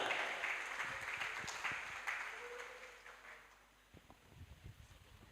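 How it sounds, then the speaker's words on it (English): Faint, distant applause at a hybrid university conference for Prof. Abdul Razak, a soft scattered clapping that gradually dies away, followed by a few isolated thumps. "Give applause again from Prof. Abdul Razak."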